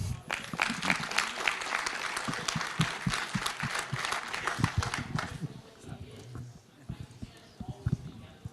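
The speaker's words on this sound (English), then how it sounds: "Another warm applause, please." Audience applause at a conference lightning talks session, dense clapping for about five seconds, then thinning into scattered claps and soft thumps with some talking underneath.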